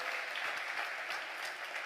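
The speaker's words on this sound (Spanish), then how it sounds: "Démosle un fuerte aplauso al Señor" A church congregation applauds steadily and loudly for the whole stretch, many hands clapping in a dense, even roar without pause.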